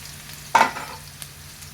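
Onions frying in oil in a pan give a faint background sizzle, with one sharp scrape or stir burst near the start that fades quickly.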